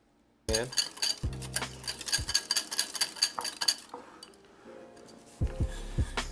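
A large whisk, about as big as the bowl, beats a mixture in that bowl. The fast, rapid clinking is close and loud, with a brief pause before the whisking starts again near the end.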